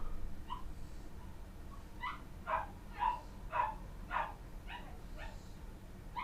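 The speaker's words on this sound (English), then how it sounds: "That's the guard dog that lives in the suite next door" A small dog next door yapping in a series of about eight or nine sharp barks at an uneven rhythm, heard faintly through a wall against a low background hum.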